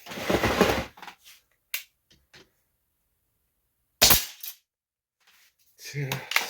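A Crosman Nitro .177 air rifle, detuned with no bleed hole, fires Gammo pellets, giving a single sharp crack with a short tail, followed by faint handling clicks and a later close knock.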